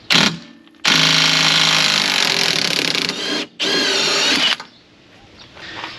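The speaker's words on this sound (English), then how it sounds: "to get the lower shock bolt off, we have an 18mm socket, and probably a little overkill with an impact" Impact wrench with an 18mm socket removing a lower shock bolt on a Saturn VUE, loud close hammering bursts of about three seconds and one second, then a quieter whir as it winds down.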